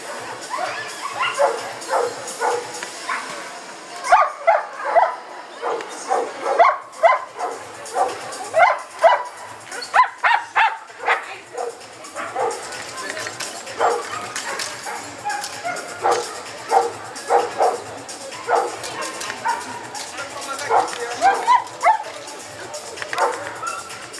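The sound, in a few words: dog barking during protection training exercise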